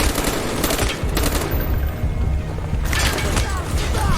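Sustained automatic gunfire from a Call of Duty: Black Ops firefight, dense rapid bursts that keep going almost without pause, with a brief lull in the middle before the shooting resumes.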